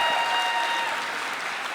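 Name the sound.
convention audience applause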